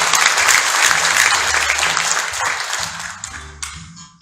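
Audience applause at a Korean White Cane Day ceremony for blind people, dense clapping that tapers off over a few seconds as the hall quiets.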